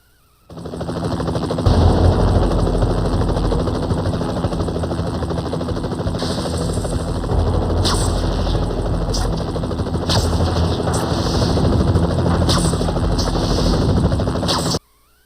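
A helicopter in the Spider-Man 3 video game, its constant rotor roar loud and close, broken by repeated short bursts of machine-gun fire.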